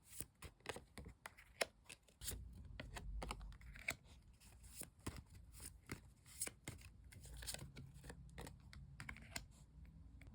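Tarot cards being shuffled and drawn during a reading, a quiet close run of papery flicks, riffles and taps in irregular bursts, with soft sliding card sounds between them and no talking.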